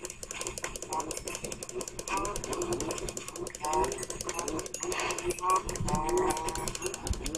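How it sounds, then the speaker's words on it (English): Cattle in the Minecraft video game moo repeatedly as they are struck and killed during farming, the lowing calls loud and close amid constant rapid clicking and game noise, with a person talking throughout. "Just standing still murdering cows on cows on cows."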